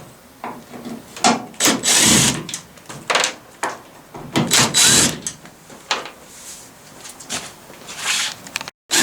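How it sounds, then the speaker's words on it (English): Screws being backed out of a cracked, scratched tail light lens on a 2000 Ford, heard as a close series of scraping, rubbing bursts of plastic and metal with brief pauses between turns. "Let's go ahead and take these screws off."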